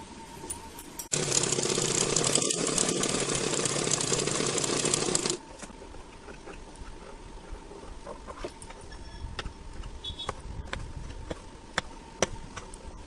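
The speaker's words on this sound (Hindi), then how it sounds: "अब इसको हम इधर से ऐसे रख के हम सिलाई कर लेंगे" A sewing machine stitching a princess cut blouse runs in a loud, steady mechanical whir for about four seconds, then stops, leaving faint clicks and small handling noises.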